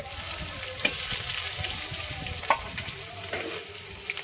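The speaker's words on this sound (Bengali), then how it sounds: "এবার আমি দিয়ে দেবো পেঁয়াজ কুচি।" Chopped onion sizzles in hot oil in a pan with whole spices such as bay leaf, cardamom, cloves, cinnamon and cumin, a steady close crackle broken by a few sharp clinks of a utensil, with no talking.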